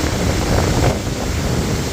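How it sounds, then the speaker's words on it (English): Steady wind rushes across a mountain trail on the Dragon's Tooth and McAfee's Knob stretch, a loud broadband roar with a gusty swell near the middle and no voices. "A little breezy."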